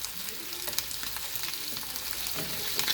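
Chicken pieces fry in a pan as the skin crisps, with a close, crackling sizzle and small pops and spatters throughout, fairly quiet and free of talk.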